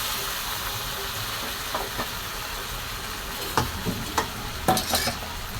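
Toor dal goes into a hot pan with spices and is stirred, giving a constant frying hiss with scattered scraping and clinking stirring sounds that grow more frequent toward the end.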